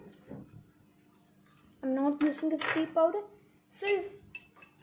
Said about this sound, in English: if you can see, I'm stirring it